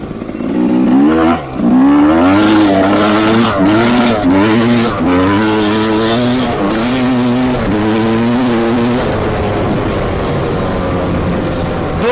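A new 2021 Rieju 300 MR dirt bike is ridden, its engine loud and near, revving up and down through several throttle bursts and gear changes before settling into a steadier, slightly fading drone.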